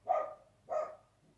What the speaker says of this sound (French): il y a un chien dehors